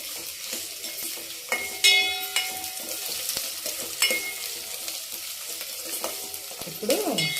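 Frying and stirring in a pan for moong dal rasam: a steady close sizzle with spatula scrapes and occasional clinks against the pan, continuous throughout, with no talking.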